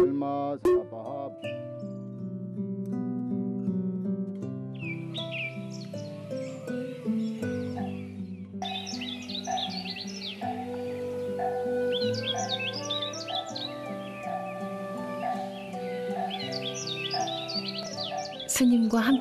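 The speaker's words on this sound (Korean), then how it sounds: "첩첩산 중 새소리만 들려오는 숲" Birds chirp and sing in bursts of high notes over a sustained layer of steady melodic tones, fairly close and clear throughout.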